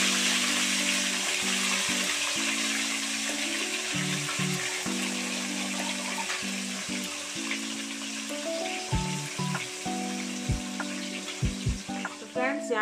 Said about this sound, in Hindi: तो चलिए हम लोग सबसे पहले फिश को फ्राई कर लेते हैं।